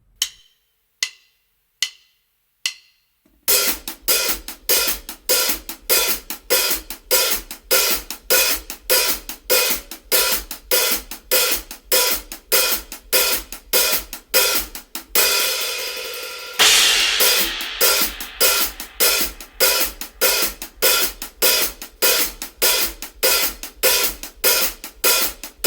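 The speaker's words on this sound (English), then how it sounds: "we're going to play 16th notes on the hi-hats and then just do a lift every 3rd 16th note" Drum kit hi-hats in a groove, played as continuous 16th notes with an open lift on every third note, loud and close. A few single count-in clicks come first, and a brief accented crash sits near the middle.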